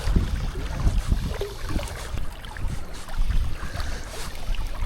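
Gusty wind buffets the microphone beside the River Tyne at a salmon fishing beat, a loud continuous rumble that swells and dips with no voices.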